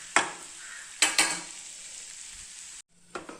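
Potato fry sizzles steadily in a pan while a utensil stirs it in a few sharp scraping strokes. The sizzle drops out briefly near the end before more stirring clatters in.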